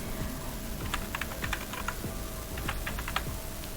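Quick, light keystrokes on a computer keyboard as a domain name is entered into a web hosting control panel, a close, fairly quiet run of irregular clicks with no voices.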